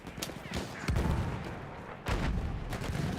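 Artillery shells land in a Battlefield 1 game match, heavy booming impacts and rumbling blasts coming in two big waves over continuous battlefield noise, close and loud, with no talk.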